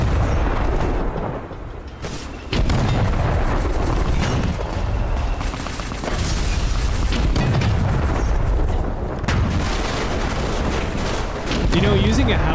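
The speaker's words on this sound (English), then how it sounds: "using a howitzer should be exciting" Howitzer artillery fires in the Fallout New Vegas video game, with heavy, loud booms and rumbling blasts repeating over a dense, continuous roar of battle noise.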